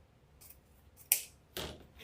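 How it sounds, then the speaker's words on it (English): Scissors snip through snowflake ribbon for a wreath, giving two short, crisp cuts a moment apart, close by in a quiet room. "now I'm going to cut 10 pieces of our snowflake ribbon"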